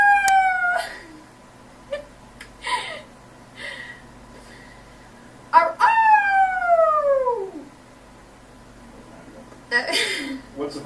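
A human voice imitates a wolf howl in several drawn-out falling wails, with short talking and laughter between them; indoor interview setting.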